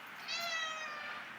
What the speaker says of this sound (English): cats eat fancy feast, of course, and interrupt every video with its meowing